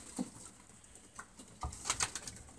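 Racing pigeons in a breeding loft give faint soft coos and small flutters, a few brief quiet sounds over low background noise.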